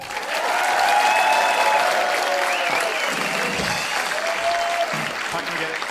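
Audience applause at a Swedish charity gala evening for a children's cancer fund, a dense, loud, steady wash of clapping lasting throughout, with some crowd noise and a few tonal sounds mixed in.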